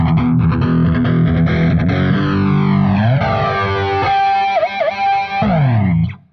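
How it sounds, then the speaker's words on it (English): An electric guitar rings out loud and alone through heavy distortion and a sweeping flanger, its sustained chords warbling and swooshing before fading out. "Let's add some distortion to that weird flangey tone I just had, just for fun."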